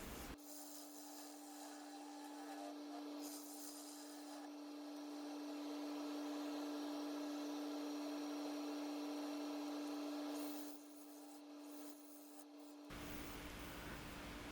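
Wood lathe with a turning tool flattening the top of a resin lidded bowl: a constant motor hum with sustained rasping cuts that swell and fade, and the sound drops out briefly near the end.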